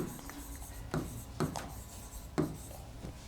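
Pen or marker strokes writing a chemistry explanation on a board or paper, with a steady scratchy rub and a few sharper taps as lines start, close and fairly quiet, with no talking.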